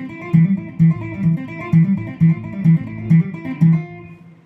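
Guitar phrases set groups of two notes against groups of three, forming a repeating plucked pattern with regular accented bass attacks roughly every half second over ringing upper notes, played close and alone.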